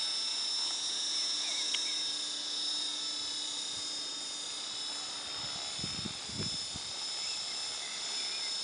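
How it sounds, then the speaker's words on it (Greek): An RC model helicopter flies at a steady height outdoors, its rotor and engine making a continuous high whine that holds at a moderate distance throughout, with a few low thumps and rustles near the end. "Πετάει και ωραία, βλέπω το ελικόπτερο."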